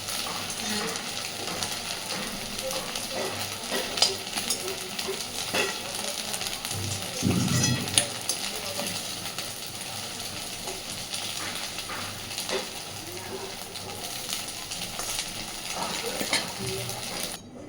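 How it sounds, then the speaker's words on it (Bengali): Chhana (cottage cheese) kofta balls fry in plenty of oil in a kadai, giving a steady, even sizzle for the whole stretch, broken now and then by faint clinks and a brief louder burst midway. "উল্টে পাল্টে সবকটা বড়া আগে ভেজে নেব"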